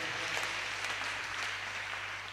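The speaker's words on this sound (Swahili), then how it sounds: "tuwapigie makofi mazuri kwa kututembelea" Congregation applause welcoming guests at a PCEA Kikuyu church service in Kamiti Parish, a steady dense wash of clapping sustained throughout with a low hum underneath.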